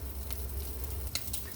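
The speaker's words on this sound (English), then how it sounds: "Okay, the Spam is sizzling and popping." Spam slices frying in a dry pan with no oil, giving a steady close sizzle with a few sharp pops near the end.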